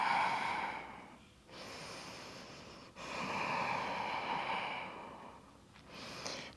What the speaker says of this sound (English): Watching the breath rising and falling.